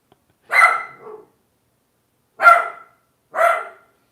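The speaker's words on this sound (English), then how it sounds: "Jake, what are you barking at" A dog barks three times nearby, sharp and loud, the first with a short follow-up yelp, separated by silent pauses.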